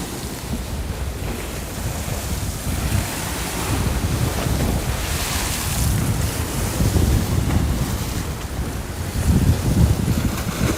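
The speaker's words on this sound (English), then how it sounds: "All the waves coming in from the freighter." Waves from a passing freighter roll in and wash ashore near the Blue Water Bridge in Michigan, a loud continuous surge and rumble mixed with heavy wind buffeting on the microphone, with no talk.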